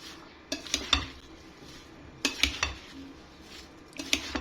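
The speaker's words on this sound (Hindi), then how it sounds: "अब हम इन सब चीज़ों को अच्छी तरह से मिक्स कर लेंगे।" A spoon mixes fruit salad with creamy batter in a bowl, producing short bursts of clinking and scraping against the dish, separated by quieter pauses.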